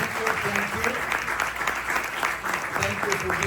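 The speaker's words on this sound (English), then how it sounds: "I think we'll give a big round of applause to our guest speaker" An audience at a lunch event applauds a guest speaker with sustained, dense clapping filling the room, while a voice talks briefly over it.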